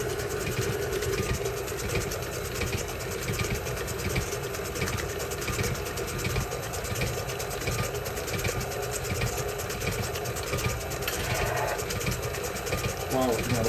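Electric mixer beating red velvet cookie dough, a continuous close motor whir with steady mechanical rattle throughout, no clear talking.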